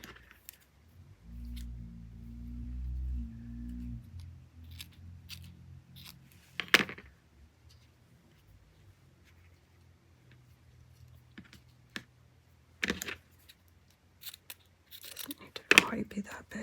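Cotton fabric torn by hand for a sewing project, heard as a few short, sharp ripping bursts spread across a quiet stretch, with a low hum near the start.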